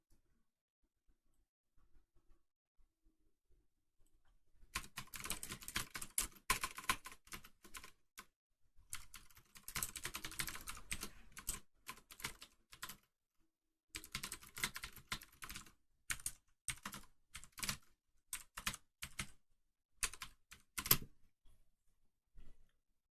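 Fast, irregular clicking of keys on a computer keyboard, close and fairly quiet, in bursts with short pauses over about twenty seconds after a near-silent opening.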